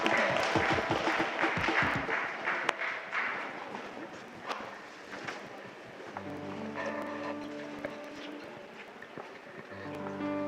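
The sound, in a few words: congregation applauding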